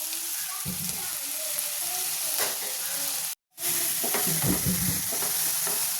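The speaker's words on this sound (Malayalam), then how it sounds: "അത് നമുക്ക് എണ്ണയിലേക്ക് ഇട്ട് കൊടുക്കാം. പിന്നെ ആ കൂടെ നമുക്ക് കുറച്ച് കറിവേപ്പിലയും കൂടി ഇട്ട് കൊടുക്കാം." Chopped onions and curry leaves fry in hot oil while being stirred, a steady loud sizzle running throughout with brief scraping stirs, broken by a split-second gap, no talking.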